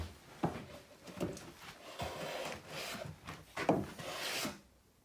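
A hand plane shaves a wooden boat spar against the grain, making quiet close rasping strokes with uneven rhythm, a few sharper catches as chunks tear out, and soft rubbing scrapes between passes.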